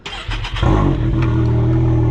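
A vehicle engine with a faulty primary clutch starts up and then runs at a steady, loud idle, a deep continuous rumble after a few rough initial pulses.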